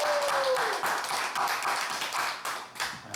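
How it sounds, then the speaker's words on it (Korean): A church congregation at a Sunday worship service claps in a burst of applause that carries on for about three seconds before thinning out, with a faint tone fading out at the start. "우리 박수 한 번 더 크게 할까요?"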